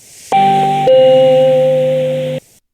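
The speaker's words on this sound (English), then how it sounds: "our descending chime," A descending announcement chime from DVA 5 software sounds two bright, ringing bell tones stepping downward, the second held for about a second and a half before stopping abruptly, with no talk.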